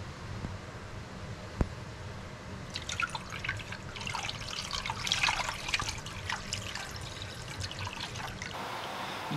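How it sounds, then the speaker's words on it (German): Curing brine splashes and trickles steadily over beef in a container, with a brighter pouring rush in the middle, close by and moderately loud. "Dann gieße ich noch die restliche Pökellake auf"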